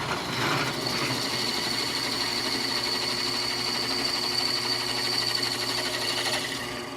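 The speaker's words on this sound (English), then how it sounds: "now I drilled the last three out with the 3/8 bit, so give it a little bigger pilot hole" A drill with a 3/8 inch bit bores into an aluminum motorcycle clutch or brake lever, a steady close whirring hum with a high whine that runs unbroken for several seconds before easing off at the end.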